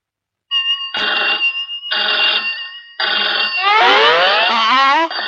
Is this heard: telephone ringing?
yes